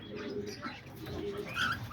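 Diamond doves coo softly in an aviary alongside cockatiels, lovebirds and budgies, their low repeated calls steady under faint higher chirps from other birds.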